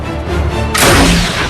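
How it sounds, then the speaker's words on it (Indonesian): A single loud, sharp gunshot-like blast cracks out during a film shootout after a tense low rumble, then rings briefly before fading. "Terjadi baku tembak yang membuat Fitzroy mengalami luka parah"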